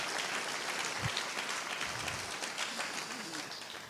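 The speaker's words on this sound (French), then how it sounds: "Comment on a une bonne main d'applaudissement pour le Seigneur?" A church audience claps in fairly quiet, steady applause that tapers slightly toward the end, with a faint voice or two underneath.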